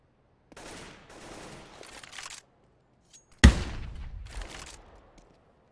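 An M249 machine gun in a competitive Counter-Strike match on Dust 2, several short bursts of rapid automatic fire, with one louder close burst near the middle followed by more bursts that fade out, with no talking.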